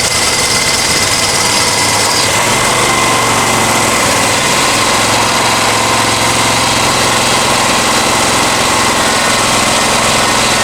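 A Honda EX1000 generator engine runs steadily at half throttle, a loud, constant buzzing drone close by that sounds like it is struggling, with no speech.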